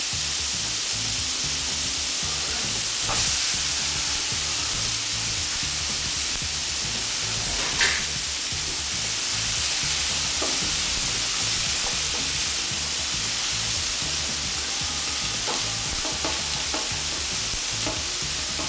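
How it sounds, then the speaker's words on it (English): Onions fry gently in butter in a pan on low heat for burger patties, making a steady, close, even sizzle with occasional soft stirring clicks and no talking. "So we leave the onions now on a low heat for around about 2, 3, 4 minutes."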